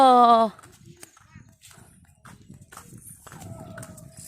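A horse named Dao walking with a rider, hooves clip-clopping softly in an uneven rhythm, with voices talking over and around the steps.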